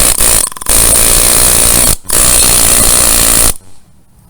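A pneumatic nut buster tool runs with a loud, harsh air-driven roar, cut by two brief pauses, then shuts off and the exhaust hiss fades out.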